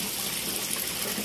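Water flows continuously into a tilapia pond, a steady, close rushing gush with no pauses and no voices over it.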